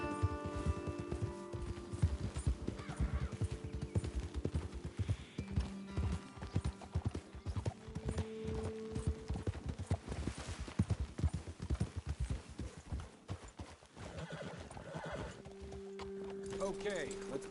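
Horses ridden in the Red Dead Redemption video game clip-clop steadily over the ground, hoofbeats in a continuous trotting rhythm with an occasional whinny, while people talk over the gameplay.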